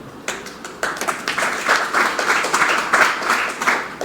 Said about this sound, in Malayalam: ജാമ്യമില്ലാത്ത വാറണ്ട് എന്ന് പറഞ്ഞപ്പോ കയ്യടിച്ചു നിങ്ങളൊക്കെ